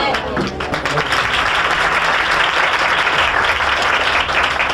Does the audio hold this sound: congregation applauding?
yes